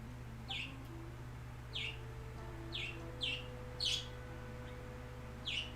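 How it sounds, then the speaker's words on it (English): Outdoor birds give short, faint chirps about once a second, repeating six times over a low steady background hum. "Sorry, it's the birds."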